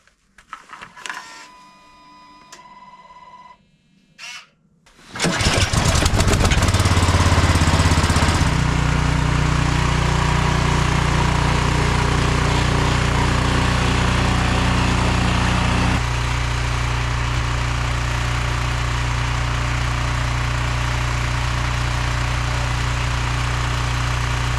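A snowblower engine in freezing Alaskan cold gets pulled and clunked for a few seconds, then roars to life loudly and settles into a steady, rough idle that continues close by without talk.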